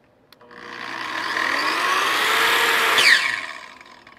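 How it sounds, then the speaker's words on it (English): A Kreg soft-start track saw spins up gradually and then cuts into a sheet of plywood, a rising whine that holds loud and steady before peaking sharply near the end, with no talking. "The saw is a soft start saw. So as I turn it on, you'll be able to hear it wind up."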